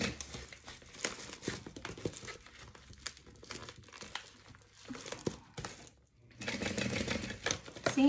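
A sewing machine stitches a seam through a bubble mailer envelope in quick rattling bursts with short pauses, mixed with crinkling of the plastic as the piece is moved, fairly close and quiet.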